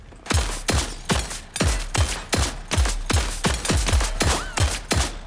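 Rapid video game gunfire, about a dozen sharp shots in an uneven burst-like rhythm, loud and close with no talking over it.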